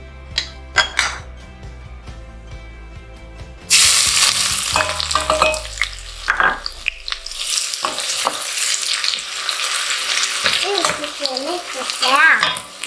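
Onion dropped into hot olive oil in a pan for a gluten-free beef and vegetable pasta: after a few seconds of quiet kitchen clinks, a loud, steady sizzle of frying erupts and continues, with occasional stirring and utensil taps.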